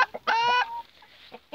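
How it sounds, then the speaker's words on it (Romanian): A Cochin hen clucks near a young Cochin pullet in a backyard coop, giving soft low clucks and one sharp, drawn-out squawk, then quiet murmuring clucks, close and clear. "Aici am o puică de cochinchina scoasă prin octombrie, parcă. Asta e mama ei."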